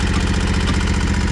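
Commercial walk-behind lawn mower engine idling close by, a steady loud rumbling putter that stays even throughout with no talk.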